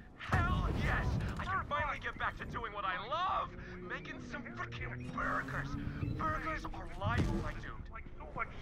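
Gunfire and explosive booms from the video game Borderlands 3, heavy bursts heard under continuous talking and radio-like voices.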